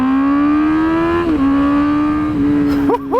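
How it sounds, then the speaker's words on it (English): A custom Honda CBR1000RR superbike with handlebars fitted revs hard nearby, its pitch climbing in quick sweeps with short drops between gear changes and a sharp final blip or two. "This bike revs up really fast"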